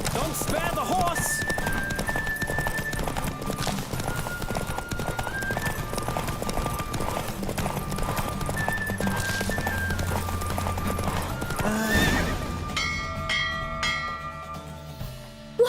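Horse galloping in a race in The Witcher 3, rapid rhythmic hoofbeats pounding close and continuous, with an occasional whinny and chiming bells, a cheering voice and music-like tones near the end.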